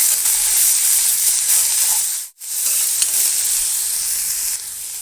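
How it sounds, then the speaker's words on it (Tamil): Onions sauté in a hot pan with garlic, giving a continuous close, bright sizzle and hiss that dips briefly once, as if stirred, then carries on steadily. "வெங்காயம் வதங்கட்டும்."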